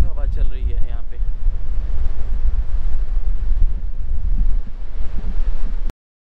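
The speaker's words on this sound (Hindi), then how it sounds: "बहुत हवा चल रही है यहाँ पे" Strong wind buffets the microphone at a coastal viewpoint near Knysna, a steady loud low roar across the whole clip with brief voice at the start, then cutting off abruptly.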